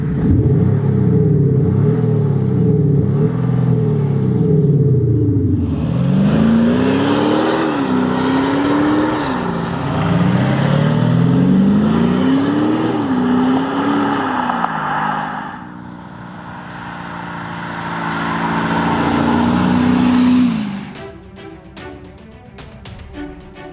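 An Audi SQ5 with a V6 TDI diesel engine revs repeatedly, each rising and falling pitch sweep loud and close, followed by a sustained higher hold before cutting off near the end; no one speaks.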